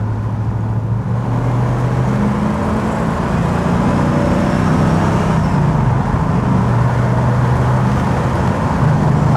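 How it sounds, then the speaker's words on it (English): A 1967 Ford Mustang S-code GT Fastback with its 390 V8 runs loud and close, a steady deep engine drone with shifting low tones as it cruises, no voices over it. "That's the 390 GT. It's a nice performing car."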